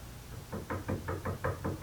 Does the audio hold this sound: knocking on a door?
yes